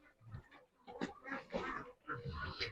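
Several low grunts and snorts from a sow on a village farm, close by, in short bursts with brief pauses between them.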